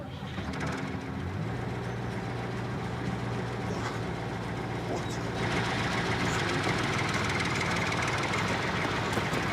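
A vehicle engine idles steadily, a low continuous rumble that fills the whole stretch and grows slightly louder partway through.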